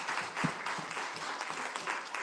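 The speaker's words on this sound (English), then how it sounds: "Let's give these candidates another round of applause." An audience claps for the candidates at a ward meet-the-candidates event, with a dense, steady round of applause and a few sharper individual claps standing out nearby.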